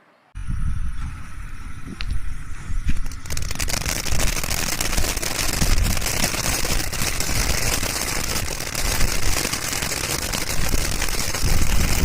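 A candle-type firecracker from Sivakasi goes off after a brief quiet start, giving a dense, continuous crackling and hissing burst that stays loud and steady for the rest of the clip.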